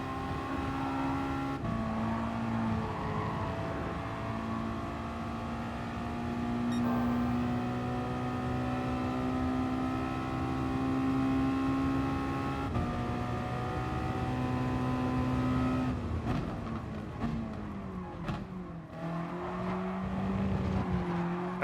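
Race car engine in Gran Turismo Sport, droning loudly and steadily throughout, with sustained harmonic tones shifting in pitch as it revs and accelerates, then rising and falling near the end as the car gasses through a turn.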